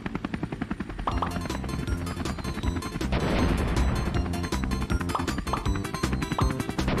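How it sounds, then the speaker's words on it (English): A helicopter in the video game Tiles II drops bombs, a dense, loud barrage of rapid crashing blasts and gunfire-like bursts over a constant rotor drone, with no talking. "I just dropped bombs as the helicopter."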